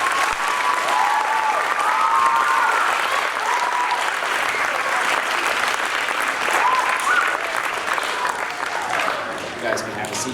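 An audience at a middle school spring band concert gives a sustained round of applause for an 8th grade band, dense, loud clapping filling the hall, with a few cheers and whistles over the top.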